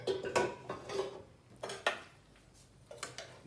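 Two spoons toss minced chicken chow mein in a bowl, making light metallic clinks and scrapes in loose, uneven bursts with short quiet gaps, close and fairly soft.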